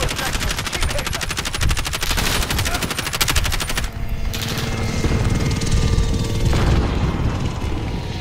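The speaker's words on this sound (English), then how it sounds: "Friendly support helo inbound." A friendly support helicopter in the Modern Warfare multiplayer video game makes a loud, rapid rotor chop mixed with bursts of heavy gunfire, chaotic and dense throughout.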